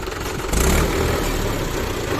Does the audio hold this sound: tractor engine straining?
yes